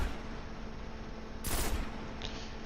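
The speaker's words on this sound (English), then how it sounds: "I didn't slow down my shots with the Hopscotch, so I'm going to do that here" Hopscotch pulse rifle firing a single slowed burst in the Destiny video game, a sharp loud crack about midway over a quiet steady background hum.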